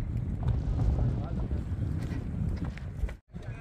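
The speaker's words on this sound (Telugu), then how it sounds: "విపరీతమైన చల్లటి గాలి ఉంది." Steady, blustery cold Himalayan wind near Panchtarni buffets the microphone in a low roar, with faint movement beneath it and a brief dropout near the end.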